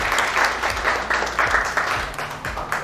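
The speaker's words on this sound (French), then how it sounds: "Applaudissez pour vous-même." Office staff clap for themselves in a modest room, a fairly close, steady patter of applause with a slightly pulsing rhythm for a few seconds.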